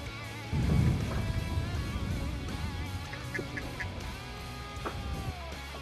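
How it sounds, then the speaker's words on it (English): Ducks and geese calling around a duck hunting blind in a Louisiana marsh: short honks and quacks scattered through the clip, moderately close, over a low rumble of wind and ambient noise. "we haven't gone 20 seconds sitting in this blind this morning without seeing some duck that's close enough to call in"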